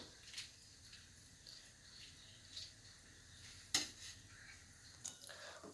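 Almonds being shaved on a grater, heard as faint, scattered scraping and clinking strokes with one sharper click midway, close and without talk.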